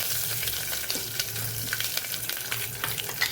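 Dried chili, bay leaf and curry leaves frying in hot oil for a Gujarati banana kadhi, a steady close crackling sizzle with brief sharper pops throughout, no voices.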